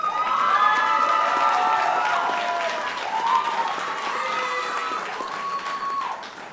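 A graduation ceremony audience at Champlain College Saint-Lambert claps and cheers steadily for several seconds, a dense full-room wash of applause with whoops, while a voice speaks over it.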